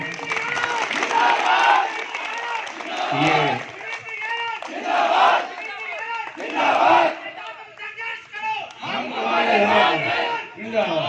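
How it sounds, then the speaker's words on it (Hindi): A crowd at a contract workers' protest outside a chief engineer's office in Bareilly welcomes a former MP, with bursts of clapping and loud chanting shouts that rise and fall in waves for several seconds. "सभी लोग एक बार उनका जोरदार तालियों से स्वागत करें।"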